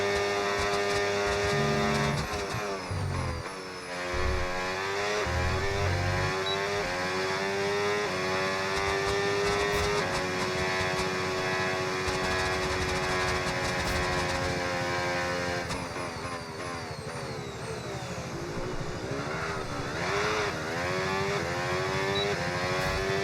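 A Formula 1 car in F1 26 on the Monaco street circuit, its high-pitched engine screaming and rising through the gears with throttle blips, loud and close and sustained throughout.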